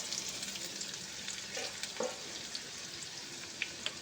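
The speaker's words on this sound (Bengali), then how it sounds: "আলুটাকে খুব ভালো করে ভেজে নেব" Potatoes frying in a pan with salt and turmeric for a ridge gourd, potato and prawn curry, giving a soft continuous sizzle with a few light spatula taps, no one talking.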